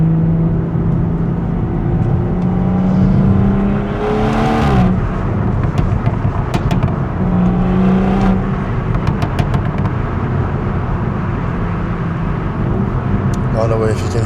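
A BMW 340i engine idles and then revs up to about 3,000 RPM several times in short bursts, close and loud, settling back between each rise, in a residential area.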